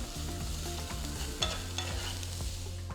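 An onion tempering with hing and salt is stirred in a hot pan, a constant close sizzle with scraping spoon strokes and a sharp clink partway through, no voices.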